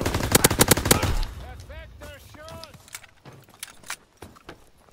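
Bursts of rapid gunfire from a Call of Duty WW2 match, loud sharp shots in the opening second, then scattered fainter shots and game effects while a voice talks over them.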